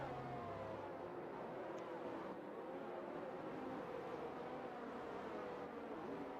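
F1 22 race cars in a game at the Belgian GP, a faint, steady engine drone with gently shifting pitch as the cars run, with no talking.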